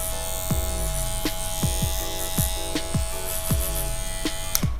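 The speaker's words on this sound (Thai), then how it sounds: "ด้านข้างมีเสียงกิกกิกกิกกิกกิก" A small Shunmei 818 cordless hair clipper buzzes steadily up close, with repeated clicking ticks and brief pitch dips as it runs, no voices.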